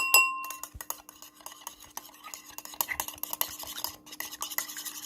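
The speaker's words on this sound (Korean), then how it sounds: "이렇게 휘리릭 휘리릭 저어줍니다" A utensil whisks quickly against a bowl for an egg drop sandwich, making rapid, close clinks and scrapes in a busy, uneven rhythm after a brief bright ring at the start.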